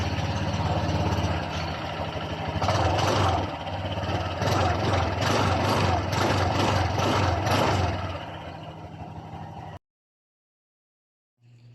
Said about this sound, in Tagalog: marinig na rin natin ang tunog ng kanyang muffler